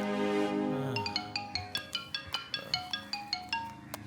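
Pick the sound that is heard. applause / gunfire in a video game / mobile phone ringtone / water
mobile phone ringtone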